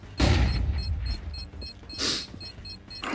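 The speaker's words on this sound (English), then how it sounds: "Throwing a flashbang." A flashbang grenade goes off in a video game as a loud, sharp burst with a high ringing tone, followed by a second hissing blast about two seconds later.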